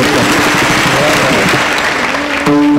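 An audience at a kirtan applauds in a dense, sustained wash of clapping, and a voice cuts in at the end.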